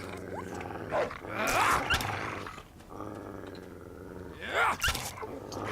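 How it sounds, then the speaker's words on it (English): Dog in the Fallout 3 video game, growling and snarling in two louder bursts over a low, continuous game ambience, fairly close and rough-edged. "It's a doggy."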